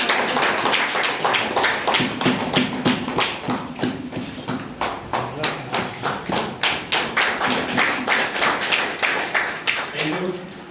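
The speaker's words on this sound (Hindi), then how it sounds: "जोरदार ताली होनी चाहिए।" An audience at an AWPL seminar claps loudly in a steady rhythmic unison beat, sustained and close, as a speaker's voice is heard over it.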